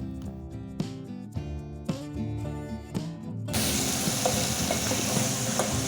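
A few soft clinks sound over quiet background, then a loud, continuous sizzle of blended tomato paste frying in a pan for tomato pickle suddenly takes over and hisses on steadily.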